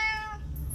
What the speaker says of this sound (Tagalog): Gutom na pusa eh.